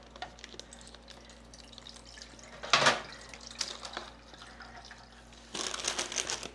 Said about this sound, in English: I'm going to drain off all that fat and juice into the can